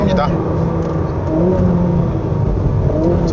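A Ferrari SF90 Stradale accelerates on a winding mountain road, its engine a loud, sustained rising whir and drone heard from inside the car, with a voice talking over it.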